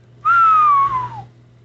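A person whistles one clear sustained note that slides gently downward for about a second, loud and close, over a low steady hum, with no talking.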